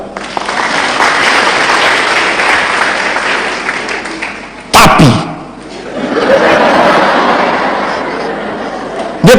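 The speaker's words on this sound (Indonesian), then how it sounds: "Tepuk tangan." A church congregation breaks into loud, dense applause that carries steadily for several seconds, stops abruptly with a brief sharp burst, then swells back up with a murmur of voices mixed in.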